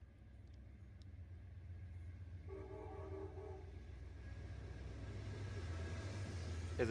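A diesel train passes in the Train Sim World 4 game, a low steady engine rumble building gradually louder, with a brief tonal horn-like sound in the middle.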